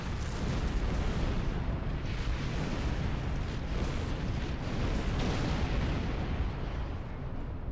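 A fired torpedo explodes in a Star Trek space combat game, heard as a dense, sustained roaring rumble that stays loud and broadband for several seconds without a break, with no voices over it.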